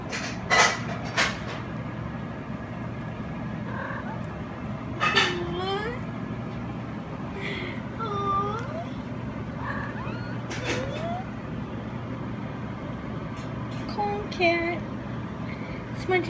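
A cat wearing a cone gives several drawn-out meows spaced across the span, close and fairly clear, over a steady low rumble.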